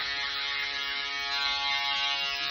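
An electric shaver hums and buzzes steadily during a haircut, close and continuous with a bright, even drone and no talking over it.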